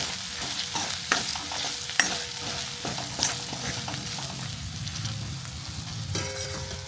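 Spiced samosa filling with salt and coriander-cumin powder is stirred in a pan, a steady sizzle under repeated scraping strokes and a few sharper knocks of the spoon against the metal, close and moderately loud, with no talking.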